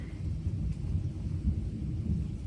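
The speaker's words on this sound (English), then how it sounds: "You hear the thunder?" Thunder rumbles low and continuous during a heavy rainstorm outside, a deep rolling roar muffled as if heard from indoors, without any speech.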